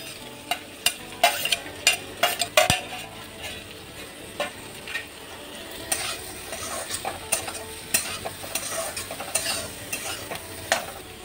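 Chopped tomato and green chilli sizzle softly in a pan for a potato and fenugreek-leaf curry, broken by repeated sharp scrapes and clacks of a spoon stirring against the pan.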